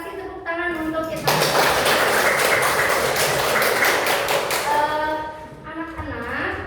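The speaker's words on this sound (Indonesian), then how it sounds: "kita kasih tepuk tangan untuk kita" A class of schoolchildren bursts into loud, dense applause for about four seconds, with voices of the students and their teacher heard just before and after.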